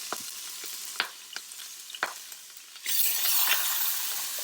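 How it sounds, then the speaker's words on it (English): Butter and olive oil heating in a pan for chicken piccata and asparagus begin with scattered taps and clinks of utensils, then a bright, steady sizzle swells up about halfway through and holds, close and without talk. "So you add the 2 tablespoons of oil and 2 tablespoons of butter."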